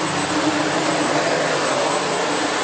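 A SEBO Felix Rosso upright bagged vacuum cleaner runs at full power, a loud steady high-pitched whine and rushing airflow with no pauses, close by and alone.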